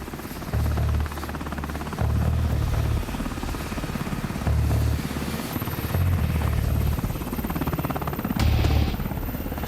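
Black Hawk helicopters fly in for a military landing in the Afghanistan mountains, their rotors thumping loud and close in a steady, heavy rhythm that swells and fades in repeated bursts.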